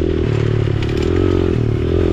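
Small-displacement mini motorbike engine on a dirt trail, a steady buzzing drone with shifting pitch as the rider works through the gears, running continuously and close throughout.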